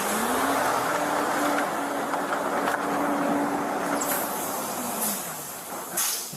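A truck engine runs steadily and loudly close by, with a low, droning tone and a faint hiss throughout; no voices are heard.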